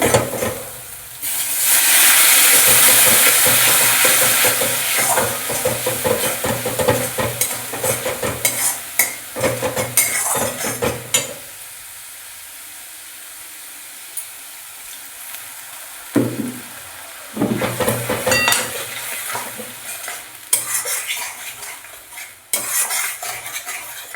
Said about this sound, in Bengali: দেখো একটু কষা হবে পনেরো মিনিট মানে ধরে কষবো মশলা